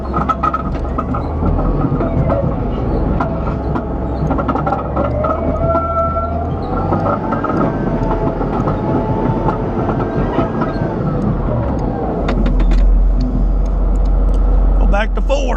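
A 55-ton Chieftain main battle tank drives with a loud, steady engine roar and low rumble that holds throughout, with track clatter and brief faint talk over it.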